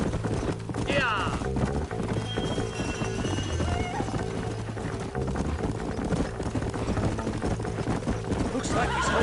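Horses in the Red Dead video game, hooves clip-clopping steadily with a neigh or whinny early on, set under a continuous bed of game music and voices talking.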